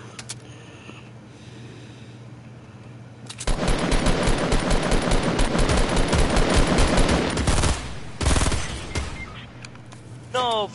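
Rapid automatic gunfire in a shooter video game erupts loud and dense after a quiet start, with sustained bursts of shots and a brief extra burst near the end; players talk faintly over it.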